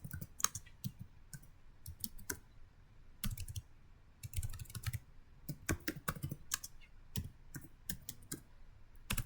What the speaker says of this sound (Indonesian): Lalu di sini kita ketik perintahnya itu IP address print.